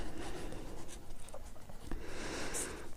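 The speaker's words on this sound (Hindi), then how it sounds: "यहाँ पर लिख देती हूँ वाष्पीकरण।" Writing on a classroom board during a Hindi-language geography lesson, a steady dry scratching and rubbing of strokes with brief pauses, fairly close and alone without voices.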